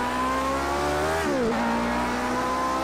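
A Lotus 49 Cosworth race car screams around classic Spa in a racing video game, its engine holding a loud, steady high whine that dips sharply on a gear change, then settles and climbs again.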